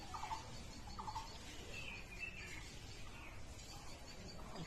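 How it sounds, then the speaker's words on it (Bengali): Red-vented bulbuls call from a red rose apple tree they nest in, giving a few faint, sparse chirps over a quiet, hissy background. "পাখিগুলো ডাকছে, এই গাছেই বাসা করে প্রত্যেকবার।"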